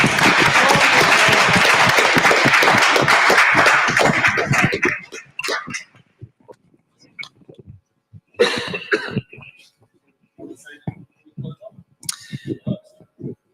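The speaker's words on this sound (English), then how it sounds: "please give a big round of applause to our candidates" Audience applause for local council election candidates at a Tararua District community event, a dense burst of clapping lasting about five seconds before fading into scattered coughs and murmuring.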